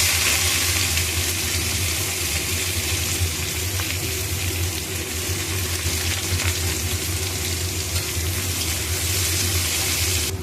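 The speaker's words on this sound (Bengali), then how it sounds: "দিয়ে দেবো কুচিয়ে রাখা পেঁয়াজ।" Chopped onions frying in a wok over a tempering of bay leaf, cumin and garam masala, for a mutton curry; a loud, steady sizzle runs unbroken from start to end with no voices.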